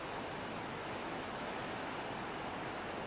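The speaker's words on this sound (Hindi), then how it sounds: "सड़क पर किस तरह से पानी बह रहा है आप देख सकते हैं।" Rainwater flooding across a highway in the hills near Srinagar, Uttarakhand, heard as a constant, even rushing hiss of flowing water, moderately faint and unbroken, with no voices over it.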